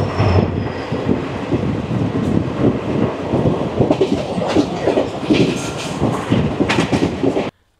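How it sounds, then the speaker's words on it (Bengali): Passenger train 19720 runs nonstop between Degana Junction and Merta Road, a loud, close, continuous rumble with rattling wheel clatter on the rails, cutting off abruptly at the end. "দেগানা জংশন আর মেটা রোডের মধ্যে আমাদের এই ট্রেন চলবে ননস্টপ 44 কিলোমিটার।"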